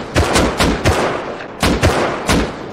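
Gunfire in the game Rust during a cargo raid, a string of sharp, loud single shots in an uneven rhythm, about seven reports in under three seconds.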